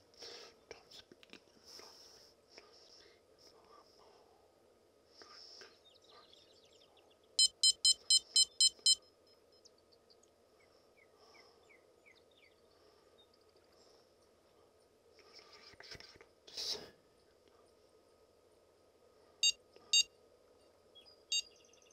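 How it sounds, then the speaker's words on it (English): A carp fishing bite alarm beeps in a quick burst of about six electronic tones, then gives a couple of lone beeps later, over quiet outdoor background with soft low talk. "Which is why it's just beeping and it's not running."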